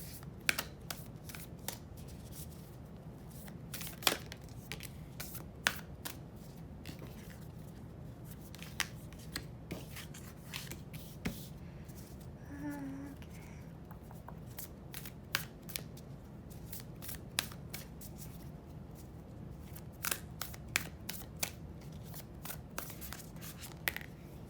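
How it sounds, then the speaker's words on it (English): Tarot cards being shuffled and riffled by hand, a long run of quick crisp snaps and flutters close by, with no one speaking. "I'm just gonna quickly shuffle for you."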